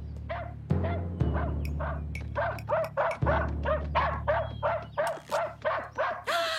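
A dog barks repeatedly in a quick, uneven series of sharp yips and woofs, close and loud, with a low hum underneath.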